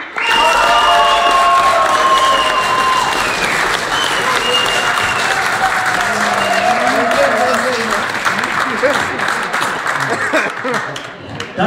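Sustained audience applause for a rock and roll dance couple fills the room, loud and continuous, slowly thinning toward the end, while a voice talks over it.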